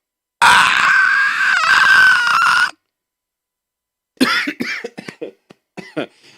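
A person imitates a horrible shrieking noise with the voice, one long harsh rasping shriek of about two seconds, then silence, then a run of short strained coughing bursts.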